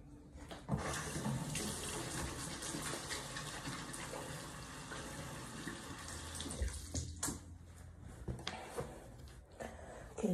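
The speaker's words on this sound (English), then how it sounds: "Let me wash my hands." A bathroom tap runs steadily while hands are washed beneath it, a close, continuous splashing rush of water that lasts throughout with small shifts in flow and no talking.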